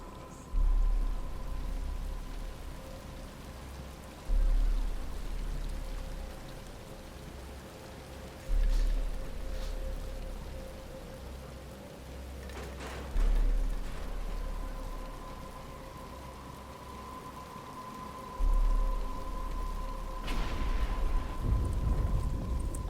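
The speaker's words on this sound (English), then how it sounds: "But it's starting to rain." Rain falls in the video game Batman: Arkham Asylum as a steady, moderately faint hiss. Dull low thumps recur every few seconds, and a louder rumbling burst comes near the end, with no speech.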